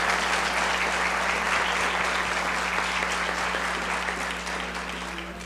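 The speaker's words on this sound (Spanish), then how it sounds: "Otro muy fuerte aplauso a la doctora," An audience at a lecture on surrogate motherhood breaks into steady, dense applause for the speaker, sustained over a constant electrical hum and fading slightly at the end.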